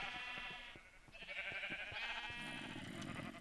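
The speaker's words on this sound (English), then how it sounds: "Sheep shearing for all sheep of the appropriate colors." Minecraft sheep bleat repeatedly during shearing in the video game, several wavering, overlapping baas close up and fairly loud, with small clicks of game actions between them and no talk.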